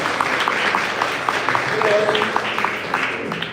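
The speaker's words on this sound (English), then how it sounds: "Please give them another round of applause." Applause from the audience at a small-business pitch event, individual claps audible over a murmur of crowd noise and faint voices, moderately near and fairly sparse.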